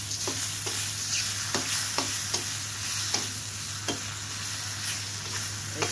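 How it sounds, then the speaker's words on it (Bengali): Tomatoes frying with ground coriander, garam masala and chaat masala in a pan, a continuous close sizzle broken by regular spatula scrapes about every half second, with a low steady hum beneath and no speech. "সাথে টমেটো ভেজে নেব।"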